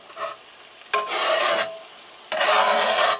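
Eggs cooking in a cast iron pan, heard as two long bursts of rasping scrape and sizzle, like a spatula working the pan, separated by a quieter stretch, with no voices.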